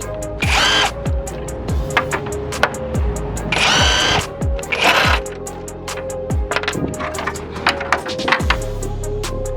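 A power drill whirs in repeated short bursts, loud and close, while removing an engine cover on a Mazdaspeed3 ahead of a high-pressure fuel pump install; no talking.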